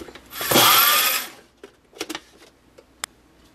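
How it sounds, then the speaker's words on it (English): Breadcrumbs with basil and oregano are blitzed in a small kitchen grinder in one loud, whirring burst of about a second, followed by a few light clicks and taps as it winds down. "Now I'm just going to put the top on and grind it up."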